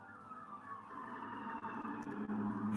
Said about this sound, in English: there is a siren coming through. It's coming through now, and now it's gone.